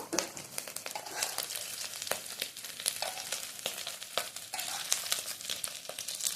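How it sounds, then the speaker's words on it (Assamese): Potato pakoras made with rice flour fry in oil with a fairly quiet, steady sizzle threaded with frequent small pops and crackles, heard up close without speech. "এতিয়া আমি এইখিনি ভালদৰে ভাজি ল'ব লাগিব"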